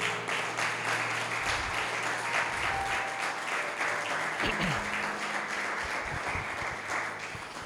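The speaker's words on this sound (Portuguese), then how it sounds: "Você pode dar uma salva de palmas para Jesus?" A church congregation bursts into sustained applause during a sermon, dense clapping filling the room at a steady, fairly loud level, with a few murmured voices and a brief low thump partway through.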